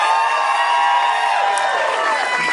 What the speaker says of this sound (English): You got some support from the trivia crowd, you did.